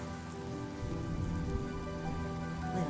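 Steady rain falling in a Honkai Star Rail game scene, a continuous even hiss of drops on surfaces with faint low tonal background music, no voices.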